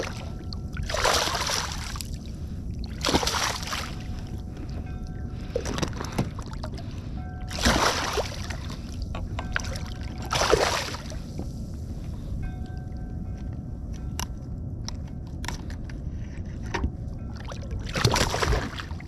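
A kayak slowly trolls across the water of western Long Island Sound, with repeated soft paddle splashes and swishes at a relaxed, uneven rhythm over quiet ambient water and wind.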